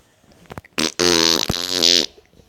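Someone imitates a fart with the mouth, a loud buzzing, flapping raspberry lasting about a second, broken by a brief pause, with short noises before and a quiet tail after.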